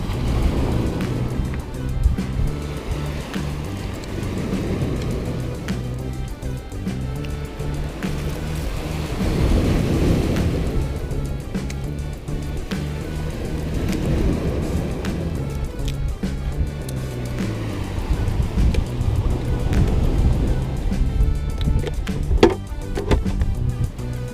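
Strong surf breaking on a rocky fishing shore, a continuous loud wash of waves surging and receding with no voices.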